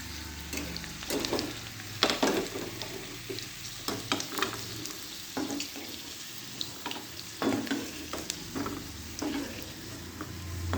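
Ingredients for sheer khurma frying in ghee make a soft background sizzle, broken by frequent sharp clinks and scrapes of stirring, quiet and close with no talk.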